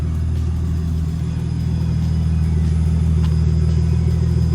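Toyota Supra engine idling low and steady while the car slowly reverses, a continuous close rumble with no speech.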